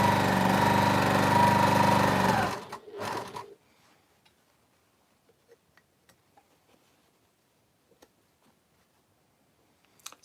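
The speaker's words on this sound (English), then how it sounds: "I'm going to sew my 9th one on to the end of my 8th one now." A sewing machine runs in a loud, steady mechanical drone while joining fabric pieces, then stops, followed by a short burst and a quiet stretch of faint scattered clicks.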